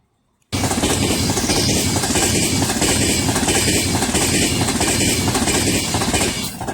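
Train passing through Crewe station on the West Coast Main Line, a loud, close, continuous roar and rumble that starts abruptly and holds steady with faint rhythmic wheel beats.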